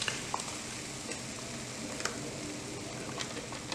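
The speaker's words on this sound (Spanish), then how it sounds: "Vamos a agregar la salsa en el sartén para que se vaya calentando" Red enchilada sauce heating in a frying pan over low flame, a soft steady sizzle with occasional small pops and crackles, close and continuous with no talking.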